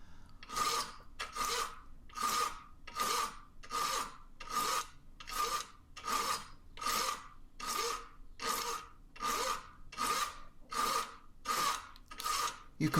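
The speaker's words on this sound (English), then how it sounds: "I'm just using a big old rasp to start with" A big rasp files a flat onto a metal bullet case held in soft vise jaws, producing about fifteen steady, rhythmic scraping strokes, each a rough rasp with a brief pause between, close and clear with no speech.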